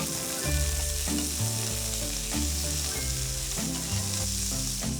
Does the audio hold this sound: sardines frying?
yes